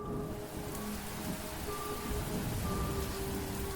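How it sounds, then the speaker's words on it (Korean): A sudden heavy downpour at a countryside guesthouse, a dense, loud, steady roar of rain pounding surfaces close by with no voices. "갑자기 빗방울이 떨어지더니 이내 쏴 하는 소리와 함께 장대비가 쏟아지기 시작했습니다."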